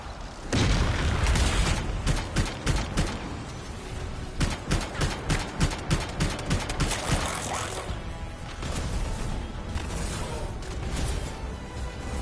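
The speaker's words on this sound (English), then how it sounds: "It'll be a contained explosion." Explosions set off from canisters in the video game Anthem, a loud burst followed by a string of rapid booming and rattling blasts with mechanical clatter, dense and close throughout.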